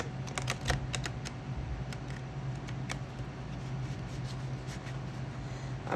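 A tarot deck being riffle shuffled up close: a quick burst of crisp card clicks and flutters early on, followed by scattered lighter taps as the cards settle, with no talking.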